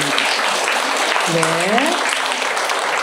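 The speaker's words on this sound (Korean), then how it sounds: "박수 한번 칩니다." An indoor audience claps in a dense, steady wash of applause. A voice speaks briefly over it.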